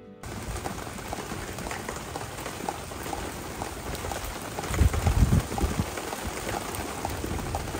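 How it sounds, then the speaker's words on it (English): A quick spring rain shower patters outdoors beside a garden pergola cover, a continuous fizzing hiss of drops with a louder burst of heavier rain midway, no voices. "Woo, starting to rain."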